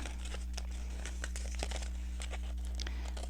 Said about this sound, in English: I'm just going to cut this out because I don't need the entire thing